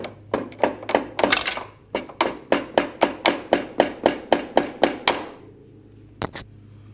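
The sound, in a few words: puncturing transmission seal with a roofing nail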